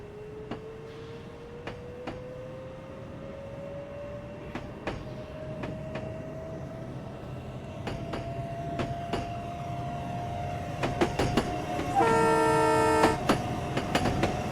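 Metro North commuter train pulling away in a train simulator game on the Hudson and Harlem lines, a steadily rising motor whine over rumbling rail noise, with a steady tone sounding near the end, no talk.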